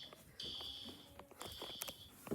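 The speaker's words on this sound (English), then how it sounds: "Grayson, the fire alarm just went off." Hotel room fire alarm sounding a loud, steady high-pitched electronic tone that starts about half a second in and repeats in long bursts, with some room noise and movement underneath.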